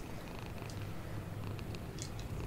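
In the horror video game Summer of 58, a cat purrs softly and steadily in a low, continuous rumble, with a few faint higher clicks over it and no voices.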